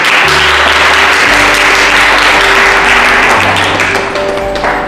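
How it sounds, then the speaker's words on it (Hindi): A Good Friday church congregation claps together, loud sustained applause over a low sustained musical tone, steady throughout before easing slightly near the end. "क्या हम एक बार प्रभु की ताली बजा सकते हैं?"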